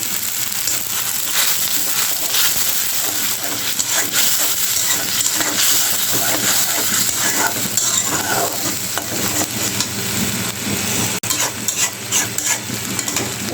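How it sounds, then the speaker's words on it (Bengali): Masala with salt, a splash of water and cumin powder fries loudly in a pan for a hilsa roe and cucumber curry, giving a constant close sizzle and hiss broken by repeated scraping stirs. "লবণ, অল্প একটু জল দিয়ে দিব মশলাটা কষানোর জন্য"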